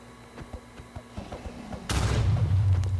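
Minecraft end crystals blow up in one sudden booming blast with a low rumbling tail, following a few soft thuds and taps from the game.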